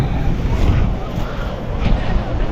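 Steady wind buffeting the microphone on a beach at low tide in Bolinao, Philippines, a loud continuous low rumble with faint surf-like wash behind it, no talking.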